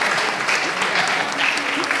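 Audience applause at a ceremony awarding a prize on the International Day for the Elimination of Violence Against Women, steady and dense clapping for about two seconds with a faint voice underneath.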